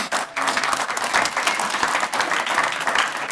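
An audience claps steadily at a county planning commission meeting, a dense patter of many hands sustained for several seconds, fairly close and loud, with no talk over it.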